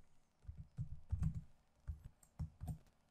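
Keys clack on a computer keyboard in short irregular bursts of typing, close up and soft, with no voices.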